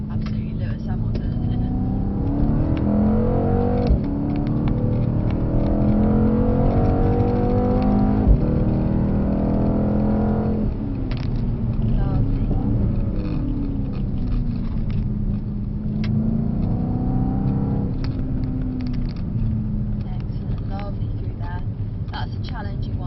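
A Mercedes car drives around a long track corner at a Mercedes driving event, its engine droning steadily and rising and falling under continuous close-up talking.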